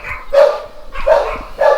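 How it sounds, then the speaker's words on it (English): Several dogs bark in three loud, close bursts spaced about half a second apart, with a person nearby while they are out on a walk. "Somebody else is obviously walking their dog right now, because my dogs have to go."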